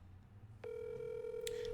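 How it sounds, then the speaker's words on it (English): Desk telephone ringing with a steady electronic tone that starts abruptly and holds, close and fairly loud over a low background hum. "The phone's ringing"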